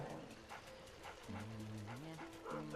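A dog boss barking and whimpering in the Luigi's Mansion video game, a run of short yips and barks over game music, with voiced tones gliding in pitch.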